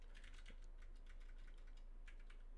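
A computer keyboard is typed on to enter a terminal command on an Ubuntu machine. It gives a quick, steady patter of soft key clicks, faint and close over a low background hum, with no talking.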